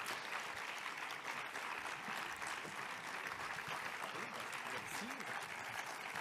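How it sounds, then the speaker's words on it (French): Applause from a conference audience at a public health congress closing plenary, fairly quiet and steady throughout, with distant voices and crowd murmur mixed in. "oui, vous pouvez les applaudir"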